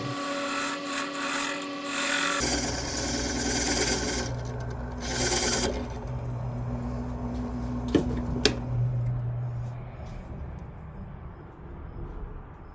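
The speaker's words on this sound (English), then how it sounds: "Just a little touch-up sanding there, and we're finished with it." Rough scraping of sandpaper on a wooden duck call, in uneven strokes with a couple of sharp knocks, alongside a steady mechanical hum.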